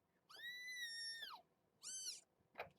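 A kitten gives a long, loud, strained scream lasting about a second, then a shorter second cry, followed by a brief rough squeak, all close up against a quiet room.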